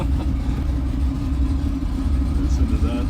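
Non-electric car engine revving nearby, a deep, rumbling low-pitched drone with throttle swells, heard while people talk over it.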